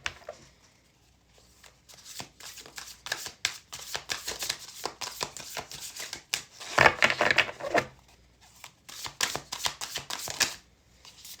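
A tarot deck is shuffled repeatedly by hand, giving a steady run of close, crisp card riffles and flicks with a louder burst midway, continuing for about ten seconds with no speech.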